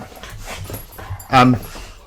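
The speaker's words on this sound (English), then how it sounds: "the dogs are just like spoiling the meaningful moment here by wrestling with each other" Dogs wrestling with each other, giving soft growls and a short sharp yelp or whimper close by, while people talk.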